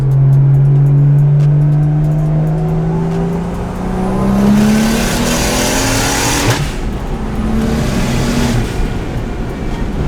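A BMW E90 335i with an N54 engine and a Doc Race DR700 single turbo kit pulls hard in third gear; the loud engine note climbs steadily in pitch, breaks off briefly at a shift or lift, then rises again, close and alone.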